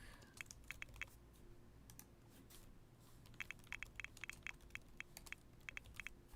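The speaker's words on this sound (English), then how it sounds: "Hopefully my typing's not too loud for you" Faint, close keystrokes on a computer keyboard come in irregular bursts of quick clicks, with a pause in the middle, over a quiet room hum.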